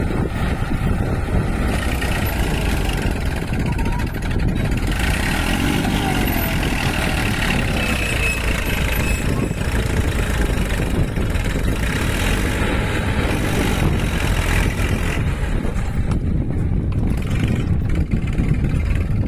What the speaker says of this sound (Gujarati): રેસ આપી દીધો ટ્રેક્ટરને ફૂલ